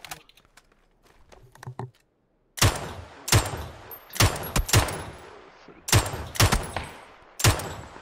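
Gunfire in the battle-royale game PUBG: a quiet lead-in, then a run of sharp, loud single shots in quick irregular bursts, each crack cutting off abruptly, with no talk over them.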